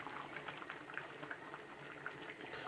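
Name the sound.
stew simmering and bubbling in pot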